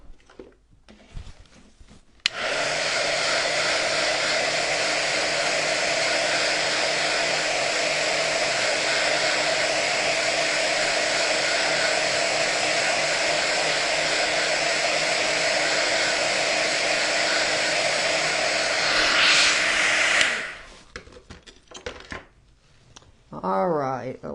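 A hair dryer blows on craft snow for a snow globe, a loud steady whoosh running nearly twenty seconds before cutting off, with faint handling noises around it.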